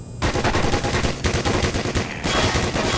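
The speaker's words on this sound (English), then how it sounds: "At least it's shooting the head crabs too." Rapid automatic gunfire in Black Mesa's office complex, a turret spraying at head crabs, loud continuous bursts with a short pause near the middle, no voices.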